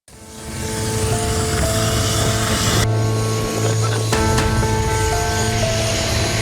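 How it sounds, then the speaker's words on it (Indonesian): A Basarnas Dauphin helicopter on a medical evacuation gives off a loud, steady rotor and engine drone with a constant whine, holding at close range throughout. "Evakuasi menggunakan helikopter Dauphin milik Basarnas dan dilakukan bagi korban yang membutuhkan penanganan medis darurat."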